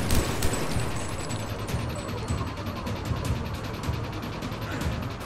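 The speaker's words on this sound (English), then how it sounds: "he's even shooting the SMG I equipped" Rapid SMG gunfire in the video game Mass Effect 3, dense bursts of shots rattling continuously through a busy in-game firefight with other weapons and effects layered in.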